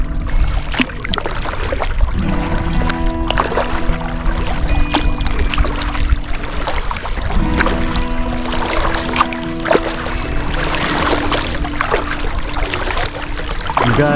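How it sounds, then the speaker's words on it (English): A kayak glides and paddles around a bend on Midway Canyon Reservoir in Cozad, Nebraska, with steady water swishes and soft trickling strokes near the boat, continuous and moderately loud, with no talking. "Here comes stone kayaking around the corner."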